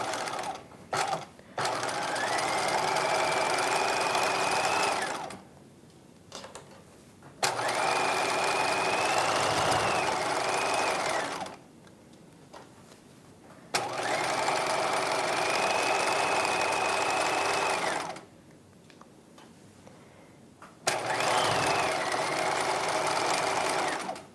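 A sewing machine stitches a five-eighths-inch seam on a circle skirt from the hem upward, whirring in four long runs of several seconds each with brief pauses between, near and loud, its pitch rising at the start of each run.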